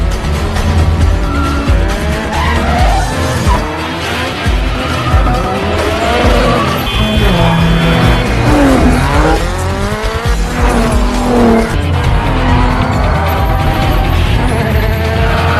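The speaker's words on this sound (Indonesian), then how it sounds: "Dan saat Takashi melihat Seon dan juga Nela, terjadi sedikit adegan dramatis dan dilanjut dengan aksi kejar-kejaran mobil ala Fast and Furious." Cars race and skid through a street chase in the film Tokyo Drift, with loud continuous engine roar and repeated sweeping tire squeals layered under music-like effects.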